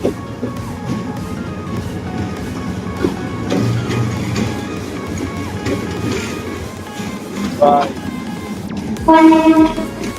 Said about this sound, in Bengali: এখান থেকে একটা ট্যালেট ট্রেন যাইতেছে ভাই দেখুন আসতেছে আচ্ছা, এটা চালের ট্রেন আছে